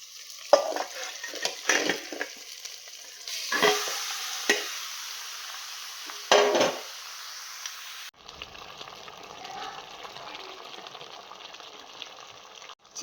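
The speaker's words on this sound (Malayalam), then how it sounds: "നമുക്കിതിലേക്ക് മസാലയൊക്കെ മിക്സ് ചെയ്ത് വെച്ച് ചിക്കൻ അതിലേക്ക് ഇടാം." Chicken cooks in a pan with masala, onion and tomato for biriyani while a spoon scrapes and stirs in irregular strokes over a soft, steady sizzle, close by and moderately loud, then easing to a quieter simmer.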